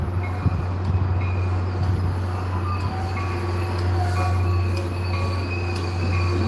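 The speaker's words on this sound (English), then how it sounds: "Yeah, and that's a diesel locomotive." A diesel locomotive pulls a train past, its engine holding a loud steady low drone with rumbling wheels and faint metallic squeals throughout.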